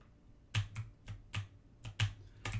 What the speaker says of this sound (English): And so I can kind of tap the keyboard, but I have to hold it to attack.